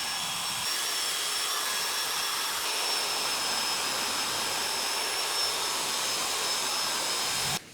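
A Harbor Freight grinding wheel removing the knurling from a metal parallel clamp, a loud, continuous high whirring roar with a steady whine, close and unbroken for over seven seconds before stopping abruptly.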